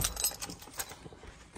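Keys for a 2009 Dodge Grand Caravan jangle and clink lightly in the hand, with small metallic chinks scattered through a brief, fairly quiet moment.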